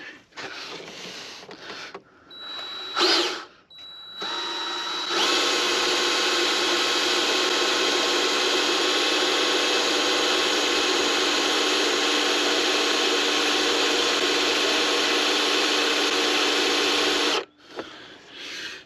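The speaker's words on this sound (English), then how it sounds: "literally what we're going to do is we're just going to drill it" A drill fitted with two stacked 90-degree angle attachments bores out a broken glow plug. After a few short starts it settles into a long, steady, high whining grind, then stops abruptly near the end, with no talking.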